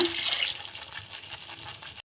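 Water pours into frying masala with salt for egg kaima sambar, a steady splashing hiss lasting about two seconds before it cuts off abruptly.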